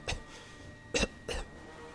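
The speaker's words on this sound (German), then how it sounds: "Das Husten." Three short, rough coughs from plague-stricken villagers in Anno 1404 Venedig, spaced apart, fairly faint, over quiet background hiss.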